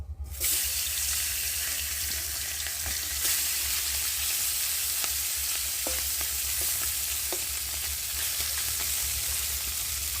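Parshe fish frying in a pan makes a loud, even crackling sizzle that fills the whole stretch, with faint occasional ticks of spattering oil and no speech.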